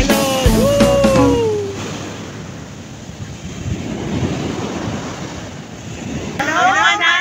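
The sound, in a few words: strong ocean waves on Hawaii beach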